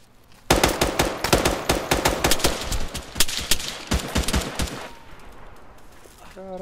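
Bursts of rapid automatic gunfire crack out loud and close in a firefight around a destroyed church, sharp volleys repeating for several seconds before thinning into scattered shots and fading.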